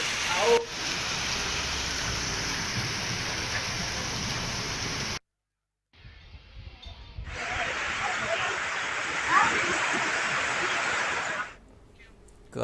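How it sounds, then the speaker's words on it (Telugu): Heavy rain with gusty winds and hail pours down in a town, a dense loud hiss broken by a brief silent cut before the downpour returns strongly. "పట్టణంలో ఒక్కసారిగా ఈదురుగాలతో కూడిన భారీ వర్షం వడగండ్ల వాన కురిసింది"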